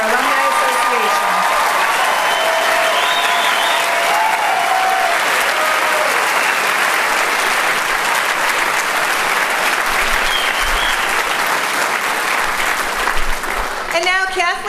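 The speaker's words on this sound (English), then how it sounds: "May we have just one more round of applause for these graduates and the newest members of our Alumni Association." Sustained, loud applause from a commencement audience honoring new graduates, steady broadband clapping filling the hall for the whole stretch, with faint voices underneath.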